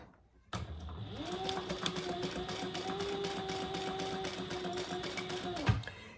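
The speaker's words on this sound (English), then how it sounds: "But I'm just going to baste it in place." A domestic sewing machine runs a long basting seam on a fabric eyeglass case, starting abruptly and humming at a steady, close rhythmic whir for about five seconds before stopping with a clunk.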